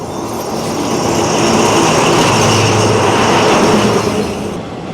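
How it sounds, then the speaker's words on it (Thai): The Sai Yok–Kanchanaburi train approaches Kanchanaburi station near the River Kwai bridge, a loud, steady rumbling roar of wheels and engine that swells and holds close by, with no talking. "ก็จะมีรถไฟสาย ไซโยกกาญจนบุรีหรือกาญจนบุรีไซโยกกำลังเดินทางมานะครับเพื่อเทียบท่าที่ ท่ารถไฟกาญจนบุรีครับ"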